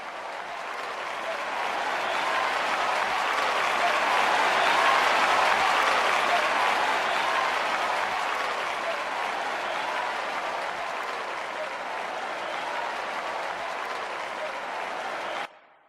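A large crowd applauding in a steady, dense wash of claps that swells toward the middle and then eases slightly, holding loud and even before cutting off abruptly at the end.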